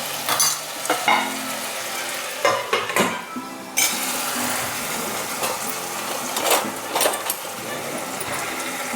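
Ginger garlic paste fries with tomato in a pan for mushroom biryani, a loud close sizzle with repeated scraping and clattering of a spoon against the pan, no talk.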